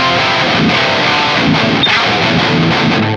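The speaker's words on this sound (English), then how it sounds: "And then with some micro pitch shift." Rhythm electric guitar from a Fractal modeler with a subtle micro pitch shift widening effect, a thick, continuous distorted tone with steady chugging figures, loud and unaccompanied by speech.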